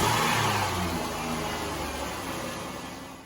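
A Dodge Grand Caravan 4.0 litre engine runs steadily after a timing belt and water pump replacement, giving a close, even mid-pitched hum with a slight fade toward the end and no talking.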